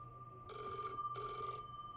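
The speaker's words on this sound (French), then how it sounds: "Téléphone il sonne." Telephone ringing in a horror video game, two clear electronic rings in succession with a steady tone between, fairly quiet in the mix.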